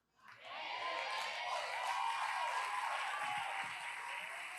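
An audience at a church sermon breaks into applause that swells quickly and holds steady as a dense, even wash of clapping, with a few faint knocks underneath.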